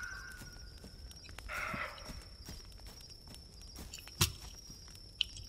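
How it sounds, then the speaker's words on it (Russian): Footsteps in the video game The Forest fall in a soft, steady series of thuds at a moderate distance, with a couple of sharper knocks near the end. "Так, я слышу чьи-то шаги."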